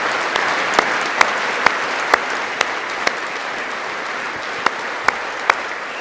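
Sustained crowd applause fills the background while sharp, loud single claps ring out irregularly on top, as if someone is clapping right next to a microphone.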